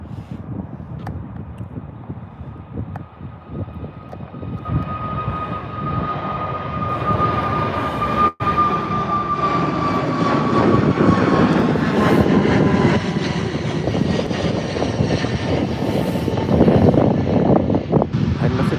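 A Ryanair Boeing 737 jet roars at Birmingham airport in a loud, sustained engine rumble with a slowly falling whine, mixed with wind buffeting on the microphone.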